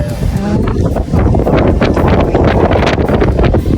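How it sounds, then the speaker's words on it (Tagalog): Strong wind on the trek to Bote Lighthouse buffets the microphone with loud, gusty roaring and rustling throughout, with a voice faintly present underneath. "Kasi ang lakas na rin ng hangin eh."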